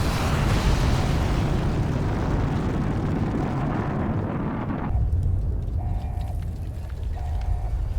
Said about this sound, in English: Missile coming up here.